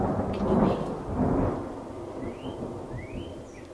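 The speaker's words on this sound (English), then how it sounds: "Did you hear the thunder? It is storming here today." Thunder rumbles during a rainy storm, a deep rolling boom that swells early and trails off into a softer continuous rumble with rain hiss beneath, with no voices present.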